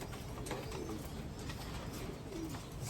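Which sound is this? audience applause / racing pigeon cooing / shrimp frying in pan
racing pigeon cooing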